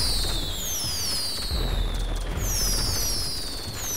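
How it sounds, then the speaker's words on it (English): An alien gun fires in GTA V Online as a dense, continuous crackling burst with high sweeping electronic whines gliding downward, loud and unbroken throughout, with no talking. "You go fucking shooting your fucking alien gun."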